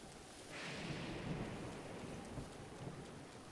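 Steady rain in Zelda: Breath of the Wild pours down with a low rumble of thunder rolling underneath, a constant wash of hiss with no voices.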